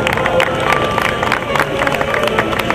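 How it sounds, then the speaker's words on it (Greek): Crowd of fans at a university league awards presentation cheering and clapping for a champion team, dense and loud with scattered sharp claps and shouts throughout. "Ένα δυνατό χειροκρότημα για την ομάδα των ΤΕΦΑ Άτρια."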